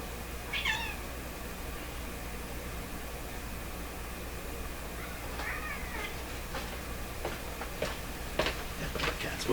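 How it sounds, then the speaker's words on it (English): Two indoor cats meow on a rainy day, a few separate plaintive meows spaced apart over a quiet background with a faint steady hum and soft ticks. "two confused cats. They don't know what to do"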